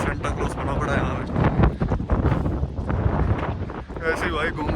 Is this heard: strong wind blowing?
yes